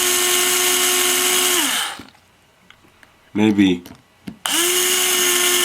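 Power drill tightening screws on an Axial Yeti kit frame, two sustained whirring runs with a quiet gap holding a short spoken word and a few clicks.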